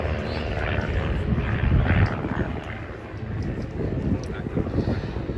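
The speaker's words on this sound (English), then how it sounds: "The other 4 aircraft have meanwhile changed to box formation, and they're coming in for a barrel roll." Propeller aircraft engines drone during a formation flying display at the Duxford air show, a steady rumbling roar rising and falling as the planes pass, with a commentator talking over it.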